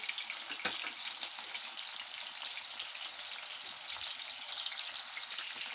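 Handi kebabs shallow frying in oil in a pan, a steady dense crackling sizzle holding at even loudness throughout with no talk.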